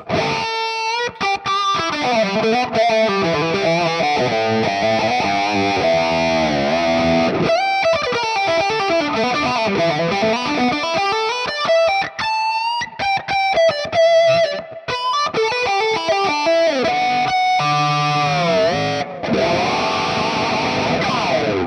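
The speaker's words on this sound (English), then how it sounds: "But I love using this wah actually with distortion." Electric guitar played through wah and heavy distortion, the tone sweeping and growling across sustained notes and bends, loud and continuous with no talking.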